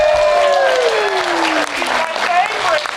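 An audience at the Adepticon 2024 live show breaks into applause and whoops, steady clapping underneath a few shouted voices and a sliding vocal-like tone.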